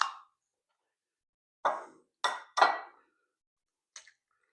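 Eggs drop into a bowl for scrambled eggs, giving several soft, separate plops and cracking knocks. Quiet pauses fall between them.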